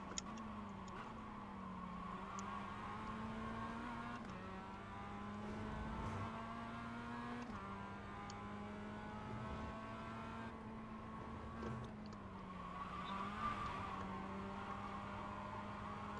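A Mazda MX-5 race car engine in the iRacing sim holds a high, sustained drone that climbs steadily through the gears, with each upshift marked by a sharp drop in pitch. It stays at a moderate, even level throughout, with no talking.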